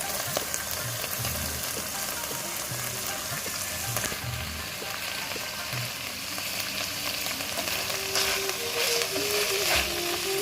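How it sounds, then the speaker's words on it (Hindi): Chicken frying in a pan with tikka masala, a steady close crackling sizzle that runs throughout with faint stirring scrapes. "टिक्का मसाला डालेंगे साथ, और हमने साथ कुछ भी ऐड नहीं करना है इसको हम अलग से ही फ्राई कर रहे हैं"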